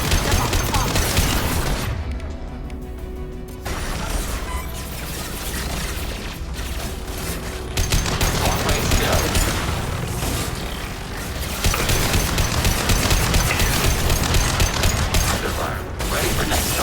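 Sustained combat gunfire in Mass Effect 2, loud bursts of rapid shots and impacts that continue almost without pause, with a brief lull near the start.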